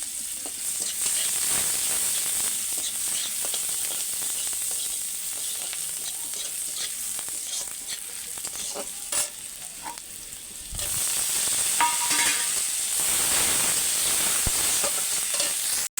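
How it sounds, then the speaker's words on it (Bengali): Chopped onion and tomato frying in oil for a koi fish curry, a steady close sizzle with stirring scrapes, briefly easing before surging louder again, no voices. "এখন পেঁয়াজ টমেটোটা ভাজা হয়ে গেছে সুন্দর করে"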